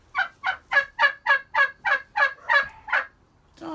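Rescued turkeys gobble in a rapid run of about ten evenly spaced, loud warbling calls close by, then pause before another call begins.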